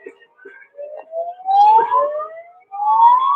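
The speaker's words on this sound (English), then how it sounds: "Sirens, cops, honking." Police sirens wail along a city street outside Uber headquarters during a gig workers' protest, rising and falling tones sweeping loudly and close, with short gaps between wails.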